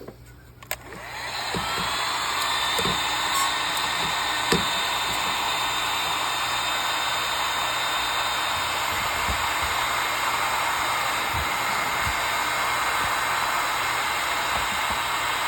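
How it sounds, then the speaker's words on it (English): A heat gun used for heat-shrinking while making lead jig heads switches on with a click and a rising whoosh, then blows as a steady, loud airy roar with a faint high whine, broken by a few small knocks. "Let me fire up the heat gun."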